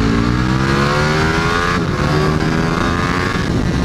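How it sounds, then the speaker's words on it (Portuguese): A loud, close Ducati Panigale V4 S motorcycle engine revs hard and climbs in pitch, a raw buzzing roar sustained throughout. "Olha como é que abre esse motor"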